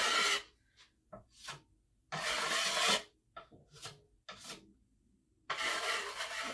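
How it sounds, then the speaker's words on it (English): Paint is rubbed by hand into a faux reclaimed boat-wood board, giving several dry, raspy scrubbing bursts of varying length with short pauses between, close and moderately loud. "Maybe just a little more colors rubbed in."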